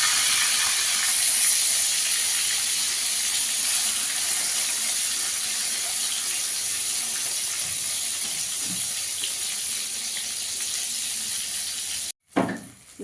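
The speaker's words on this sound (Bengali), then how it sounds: "বেগুনগুলোকে একটু লাল করে ভেজে নেব।" Round eggplant slices fry in hot oil, making a steady, loud, close hiss that runs on unbroken before cutting off sharply near the end.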